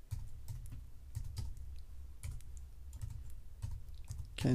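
Computer keyboard typing: a quick run of irregular key clicks entering a short preset name in Photoshop, close and moderately quiet, with brief pauses between bursts and no talking.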